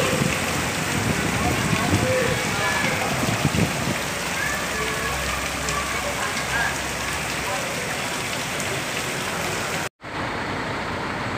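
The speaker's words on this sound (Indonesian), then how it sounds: "Hujan lagi Bang, Rambutan, hujan lagi." Heavy rain pours steadily at a flooded bus terminal, a dense broadband hiss of drops on surfaces and water throughout, with a brief cut near the end before the downpour continues.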